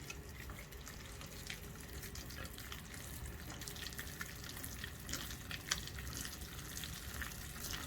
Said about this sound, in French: Ensuite, je prends un fouet pour mélanger.